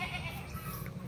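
Goat bleating close by on a small farm at feeding time, a steady wavering call under low background noise, short and continuous.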